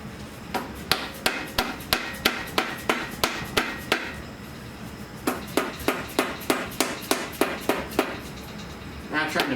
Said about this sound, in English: A lot of times you can take and just kind of hit it on the backside edges and get it off.